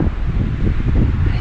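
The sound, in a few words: strong wind in snowy Himalayan forest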